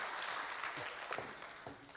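Audience applause at a Korean church service, steady broadband clapping that tapers slightly toward the end, with a few faint voices mixed in.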